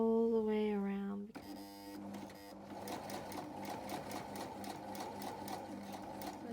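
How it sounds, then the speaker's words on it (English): Sewing machine running a steady, fast stitch around pinned cloth mask fabric, close and continuous after a brief tonal sound at the start. "we're going to sew all the way around"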